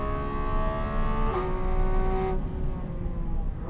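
A Porsche GT3 RS or GT4 RS on a race track gives a high, tonal engine wail from onboard that climbs, then drops sharply at two upshifts, loud and steady under wind and road roar.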